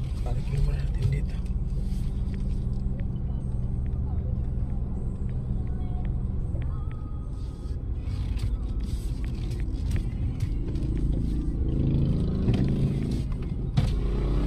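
A car idles and rumbles at low, steady volume while being parked, with a few clicks and thumps over the engine hum and people talking nearby.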